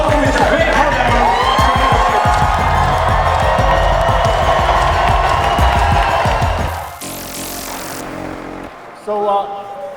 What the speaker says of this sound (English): More round of applause.